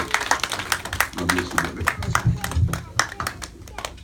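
A church congregation claps in a steady patter of applause, with voices speaking underneath.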